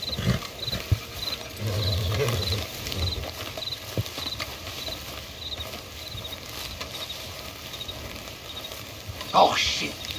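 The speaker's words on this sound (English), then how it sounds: "Don't want the horses clopping around" Horses clopping in Red Dead Redemption 2, a faint irregular hoof patter under steady game ambience and background music, with a short louder burst near the end.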